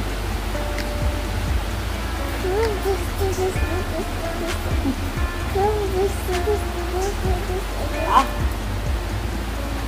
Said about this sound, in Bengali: কেমন বৃষ্টি হচ্ছে?